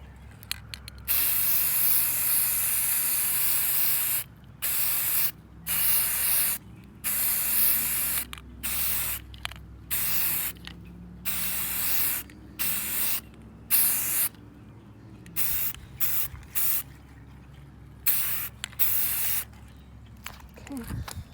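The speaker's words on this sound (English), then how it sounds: "I've had real good success with this Rust-Oleum primer, so I'm going to continue to use it." Rust-Oleum spray primer applied to a Jeep door hinge in a string of about a dozen short hissing bursts, close and loud, with quiet pauses between them.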